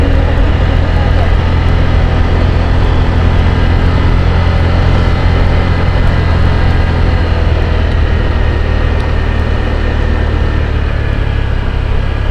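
A motorcycle engine labouring up a steep, rough uphill road on the way from Malaya to Catanauan, Quezon. A loud, dense drone with buffeting wind continues without a break, close to the microphone.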